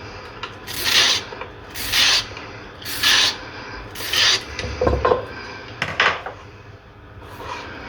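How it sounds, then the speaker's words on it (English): Carrot being peeled on a kitchen board for chicken and rice soup, four loud rhythmic scraping strokes, close up, followed by a few lighter handling knocks and a final faint stroke. "Just going to peel this last one."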